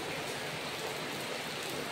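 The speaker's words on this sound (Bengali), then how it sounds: "কেমন মেঘলা করে রয়েছে আর বৃষ্টি পড়ছে" Steady rain falls on a heavily overcast afternoon, a soft, even wash of hiss with no distinct drops, fairly faint and unbroken for the whole moment.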